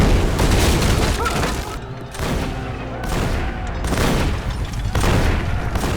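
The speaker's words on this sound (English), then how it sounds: "Facing the enemy's fierce artillery fire, Mansour remained unusually calm." Heavy artillery fire and explosions in a battle, a dense, loud barrage of booms and gunfire running continuously with brief dips, no speech.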